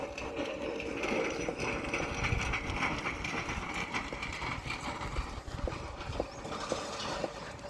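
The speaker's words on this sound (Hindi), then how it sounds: "ये जो पूरे इसके पहिए वगैरह जो भी फ्रेम है इसका, सब लोहे का है, सारा मेटल है। कितनी तेज चला रहा है बैलों को।" An oxen-drawn bullock cart with an iron frame and iron wheels moves quickly along a rough hill road beside a river, giving a steady loud rattling and clattering rumble with scattered hoof-like knocks and no speech.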